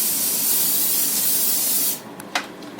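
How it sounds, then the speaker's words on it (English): Olive oil cooking spray hisses in one continuous, close burst for about two seconds, then stops, followed by a couple of faint clicks. "I'm going to add some olive oil spray."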